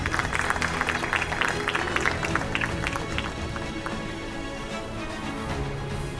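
Audience at a Dr. A.P.J. Abdul Kalam award ceremony applauding, a dense roomful of clapping with crowd noise that starts loud and tapers off slightly toward the end.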